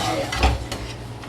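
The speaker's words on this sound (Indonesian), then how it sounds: "Nah, kita diaduk-aduk." A utensil stirring food in a pan, giving a brief burst of scraping and clinking against the metal with a soft sizzle underneath, close and moderately loud.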